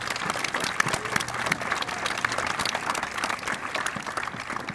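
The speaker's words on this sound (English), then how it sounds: "Let's give Jack another round of applause." An audience at an artwork dedication at an administrative center gives the artist a sustained round of applause, dense, even clapping that holds steady throughout.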